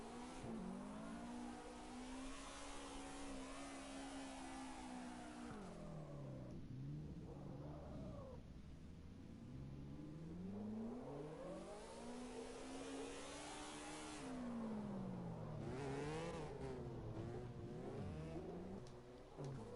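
A car engine revs hard and steadily while drifting in the Car X Drift Racing video game, its pitch rising and falling in long sweeps, with whirring tire noise throughout, loud and continuous with no talking.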